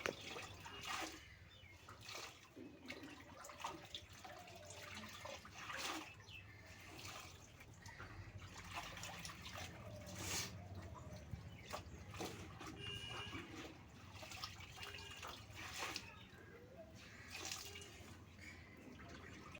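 Clothes being washed by hand under running water, with faint splashing, dripping and sloshing in uneven bursts over a steady low trickle, fairly quiet and distant, with no voices.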